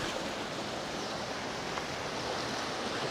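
Continuous broadband rush of river water flowing over rock formations near Antipolo Falls in Indang, Cavite, steady and even throughout with no voices.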